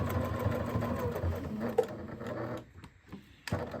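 A sewing machine stitches fabric for a microwavable bowl cozy, running in a fast steady whir for about two and a half seconds, then stopping and starting with short bursts and clicks, close up.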